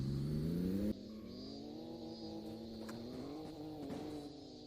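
A Nissan Skyline R32 engine revs steadily at moderate volume, its pitch rising and falling slightly over a few seconds, heard alone without voices.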